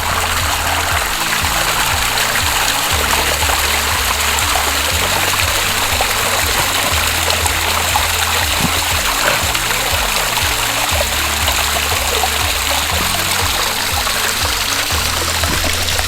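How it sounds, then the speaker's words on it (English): Spring water flows and splashes steadily into a garden water feature in Bath, a continuous broadband rush and trickle that holds constant throughout, close and fairly loud, with no speech. "Apparently the flow of water is imminent"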